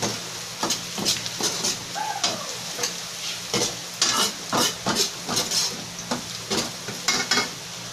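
Garlic fries in oil for spicy chicken wings, giving a loud, dense sizzle with rapid crackling. A utensil scrapes the pan in repeated sharp strokes up close, and no one speaks.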